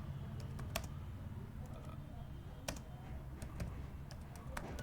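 Typing on a computer keyboard while writing a Quora answer, with soft scattered keystrokes and a few sharper clicks over a steady low background hum, fairly quiet and close.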